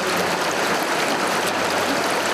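Creek water in Jacobsburg State Park flows steadily and close, a dense continuous rush and babble with no voices over it.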